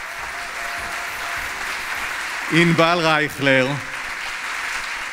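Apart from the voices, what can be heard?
audience applause at an award ceremony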